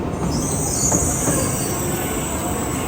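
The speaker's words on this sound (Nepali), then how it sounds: "यो टोकियोको बुलेट ट्रेन हो" A Shinkansen bullet train in Tokyo runs with a loud, sustained high-pitched wheel squeal over a rushing rail rumble, close by and steady throughout.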